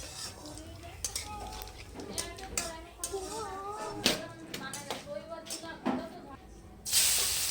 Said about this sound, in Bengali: দেখো বন্ধুরা, আবার ফোড়ন দিচ্ছে গাইস